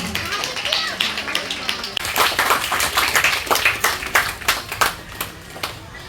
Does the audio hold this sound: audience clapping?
yes